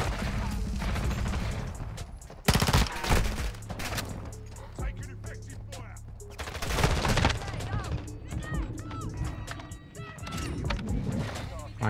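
Call of Duty MW2 gameplay gunfire, with repeated bursts of automatic weapon fire and sharp shots crackling throughout, some loud close volleys, mixed with game sounds and a voice talking.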